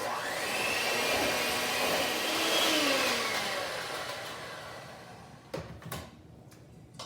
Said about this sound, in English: I'm going to use a hand blender to cream this all together until it's nice and smooth.